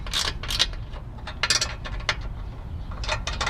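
A ratchet wrench tightens bolts on iArmor aluminum black side steps, close repeated clicking bursts in an uneven rhythm over a few seconds.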